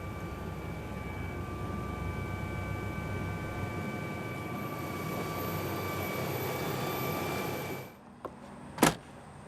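A helicopter flies over isolated, hilly terrain in Hong Kong, a steady droning hum with constant tones lasting about eight seconds before cutting off abruptly, followed by a couple of brief knocks.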